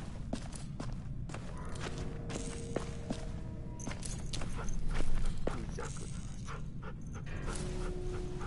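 A dog in the video game The Walking Dead pants softly and quickly, with faint footsteps and light thumps around it, fairly quiet and close.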